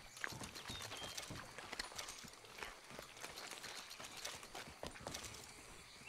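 Hooves gallop fast and steadily in the video game Red Dead Redemption 2 during a stagecoach holdup, a dense, even drumming that runs the whole time at low level with no talk.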